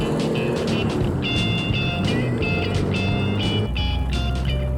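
A vintage car pulls away in first gear as the clutch eases out, its engine droning close and steady with a rising whine and some rattling mechanical ticks.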